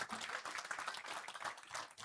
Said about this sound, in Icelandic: Ef ekki að gefa hann gott klapp